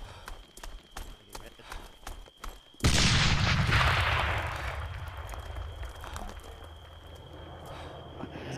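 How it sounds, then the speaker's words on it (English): A loud, close explosion in the video game ArmA 3 bursts suddenly after a few quiet clicks, followed by a long rumbling wash of falling debris that slowly fades. "You can hear the debris falling."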